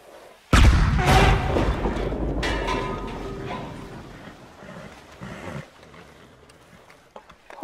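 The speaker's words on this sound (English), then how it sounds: "Explosion noises in five." A sudden loud boom in the video game Red Dead Redemption bursts out, then rumbles and decays over several seconds into quieter background noise, with a faint voice near the end.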